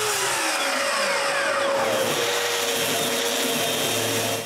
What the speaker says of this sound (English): I can sand the edging to the plywood